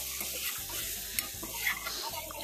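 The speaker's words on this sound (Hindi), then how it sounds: "मैं इसको मीडियम फ्लेम पर ही भून रही हूँ" Spice masala for an egg curry fries over a medium flame in a pan, a soft continuous sizzle broken by repeated scraping stirs of a spoon against the metal.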